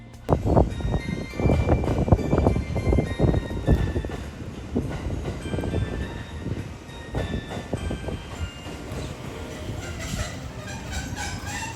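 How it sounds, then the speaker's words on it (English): The Sunrise Seto sleeper train in Japan rumbles and clatters steadily as it pulls into a station platform from the depot, with a loud, continuous rail noise that gradually eases and settles. "our train pulls in from the depot"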